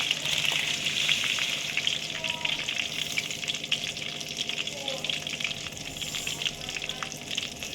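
Mustard seeds and cumin crackle and fry in hot oil for a pickle, a steady dense sizzle with scattered pops running the whole time, close and moderately loud, with no talk.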